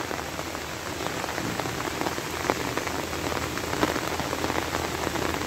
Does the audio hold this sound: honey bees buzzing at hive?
no